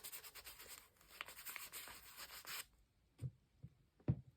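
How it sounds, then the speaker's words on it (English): White paint being rubbed into a layered mixed-media paper collage gives a steady dry scrubbing across the surface for a few seconds, then stops and leaves a few soft isolated taps and brushes, all close and fairly quiet. "I'm just going to rub in a little bit of the white all and around here."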